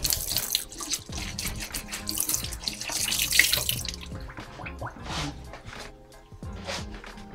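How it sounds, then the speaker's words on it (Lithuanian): Cold tap water runs into a sink to wet a cheesecloth bag for making village cottage cheese. The splashing is steady and fairly close, with some louder gushes, and no talk over it. "Dabar sūrmaišį sušlapysim šaltu vandeniu, kad nepriliptų"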